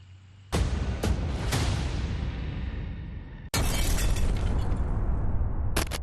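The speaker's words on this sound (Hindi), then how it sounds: "कार को कब्जे में लिया और एहतियात के साथ विस्फोट से उड़ा दिया" A car is blown up in a controlled explosion: two heavy blasts go off, each followed by a long roar of debris and rumbling, with sharp cracks scattered throughout.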